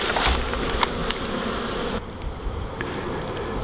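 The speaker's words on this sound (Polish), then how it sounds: "Pszczoły wyleciały z jednego ula." Honeybees streaming out of a hive on a mild winter day, a steady close buzz of many wings with individual bees zipping past the microphone, no speech.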